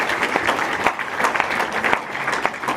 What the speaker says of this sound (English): Let's get a round of applause for our senior facilitators.